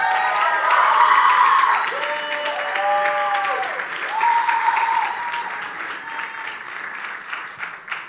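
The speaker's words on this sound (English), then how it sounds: "Everyone give them a round of applause." Church audience applauding as mothers are invited on stage, steady broadband clapping with a few cheers, loud and sustained throughout with faint voices mixed in.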